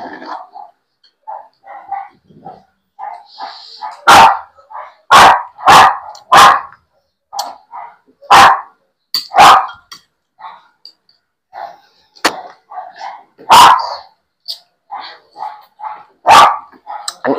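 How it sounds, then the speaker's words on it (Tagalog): Pet dogs bark at home in sharp, loud bursts that come irregularly and sometimes in quick pairs, with quieter yips and small household noises between them. "ang ingay ng mga aso"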